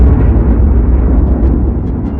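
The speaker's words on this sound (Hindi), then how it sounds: "बीच के इस भयंकर दबाव के कारण एक विशाल विस्फोट हुआ" A huge explosion sound effect depicting the birth of the sun: a loud, dense, low rumbling roar that sustains without a break, heavy in bass and muffled at the top.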